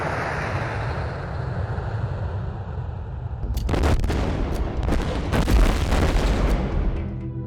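An airplane circles overhead shortly before a crash, a loud continuous broadband roar that swells and grows rougher midway, with sharp rumbling bursts toward the end, heard alone without talk.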